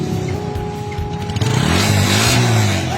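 A Honda TMX125 Alpha motorcycle with a clogged black stock exhaust revs up from a low idle, the single-cylinder engine note climbing and thickening close by, sounding muffled and strained, with no talking.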